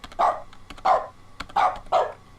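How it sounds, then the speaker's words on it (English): A dog bark triggered by a console command in The Stanley Parable video game sounds four times in two pairs, sharp and close, with faint clicks between the barks. "Type in bark, and when you click E..."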